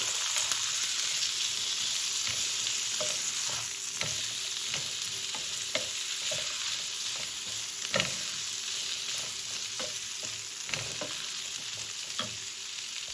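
Spices and vegetables frying in a pan for a potato salad, a dense steady sizzle broken by regular soft scrapes and taps of stirring, no talk.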